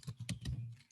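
Short bursts of keystrokes on a computer keyboard as a coupon code is entered, a handful of quiet, quick clicks in an uneven rhythm.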